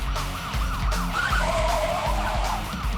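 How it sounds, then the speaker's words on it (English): A black car swings through a U-turn during a police pursuit, tyres and engine loud and close while a police siren wails steadily over the roar. "the black car does a U-turn and heads back the other way"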